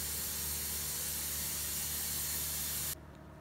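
A steady, loud hiss of steam venting from a pressure cooker used to cook meat for kabsa, continuous and close before cutting off abruptly near the end.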